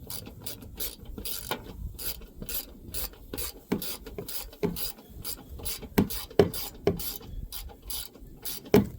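A ratchet wrench loosens 12 mm bolts during an oil change on a 2018 Nissan Titan XD Cummins 5.0, making rapid, uneven bursts of close mechanical clicking with short pauses, and no voices.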